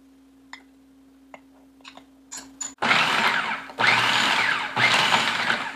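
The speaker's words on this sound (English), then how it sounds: "I'm going to add the flour and confectioner's sugar to the almonds and grind it down" A food processor grinds almonds with flour and confectioner's sugar into powder, running in three loud, steady bursts with brief pauses between, after a few small clicks and taps.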